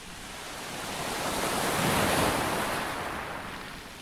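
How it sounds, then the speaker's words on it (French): Waves wash onto the shore in a broad roar that swells, peaks in the middle and slowly recedes, with wind noise mixed in and no voices. "j'ai regardé les vagues s'échouer près de moi."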